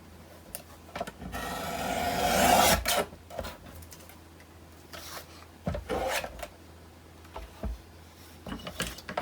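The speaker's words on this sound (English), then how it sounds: "So first of all, I will cut my background paper in the perfect size." Background paper for a scrapbook album page is cut to size: a close, dry scraping swell rises and fades, followed by scattered softer rubs and taps with no talk.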